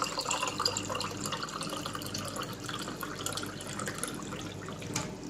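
Water pours steadily into a big drinking glass, a continuous close splashing and trickling fill with faint dripping, heard alone without talk.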